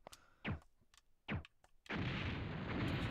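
Two sharp bomb blasts in the Silent Bomber video game ring out separately, then a sustained, loud roaring explosion fills the rest, all without voices.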